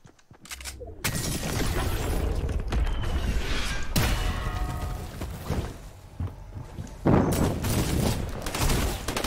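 Dense, continuous gunfire from a squad match in a video game, rapid shots and bursts layered over one another, loud and close for most of the stretch, with a brief lull before another heavy volley.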